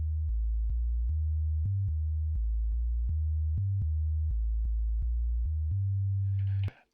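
A deep sub-bass tone played from an MPC Sample in a series of short rhythmic notes, each dropping in pitch as the fader pulls it down, then holding a longer low note before cutting off with a brief noisy burst.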